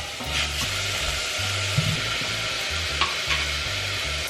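Pork belly sizzling and frying in a pot for Korean kimchi jjigae, a steady close crackle with intermittent stirring clatter, no talking.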